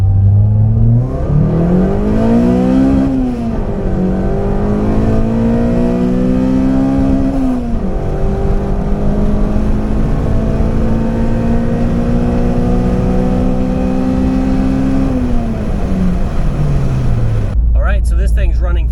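A Honda Civic EP3 with a large swapped intake manifold revs hard through a full-throttle pull, the engine note climbing steadily over many seconds, dropping at a shift, then climbing again before cutting back, loud and close throughout.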